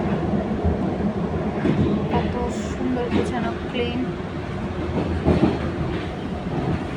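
A metro train running in Canada, heard from inside a carriage. A steady rumble and rattle of wheels on track continues throughout, with faint higher squeaks, while a person talks over it.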